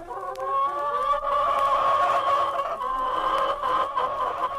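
A small flock of three hens and a rooster clucks steadily and continuously in a farmyard scene of an audio drama, the close, busy calls overlapping without pause.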